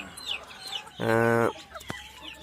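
Local chicks being cared for on a cold day, with a single loud, bright cluck-like call about half a second long over faint, scattered chirps and background noise.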